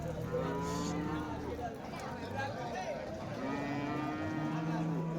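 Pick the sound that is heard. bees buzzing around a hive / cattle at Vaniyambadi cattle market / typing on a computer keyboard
cattle at Vaniyambadi cattle market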